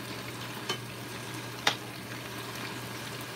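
Adobo cooking in a pan gives a quiet, continuous sizzle and bubble under a low hum, broken by two sharp clicks or taps, one of them louder, with no one speaking.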